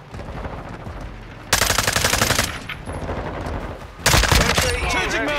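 Rapid automatic gunfire from a stock weapon in the video game Call of Duty: Modern Warfare II comes in two loud, sustained bursts, with quieter game sounds in between.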